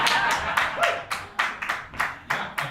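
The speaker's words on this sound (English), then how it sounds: "Yeah, applaud that, ladies and gentlemen" Comedy club audience clapping and applauding at a stand-up show, a sustained patter of many hands rising in repeated swells, fairly close and loud, with no talk over it.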